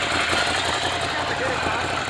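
A 2017 Ducati Scrambler Cafe Racer motorcycle engine idles in neutral with stock exhaust, a steady low rumble and rattling vibration, loud and close throughout.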